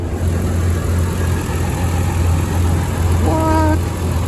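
A 1993 Toyota Land Cruiser's 4.5-litre inline-six idling, a loud steady low rumble with a constant hum throughout and a faint voice briefly heard near the end.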